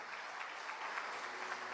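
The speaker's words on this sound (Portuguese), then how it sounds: "Quem pode aplaudir?" A church congregation claps together during a sermon, a steady, even wash of many hands that holds for the whole short stretch, fairly soft and distant.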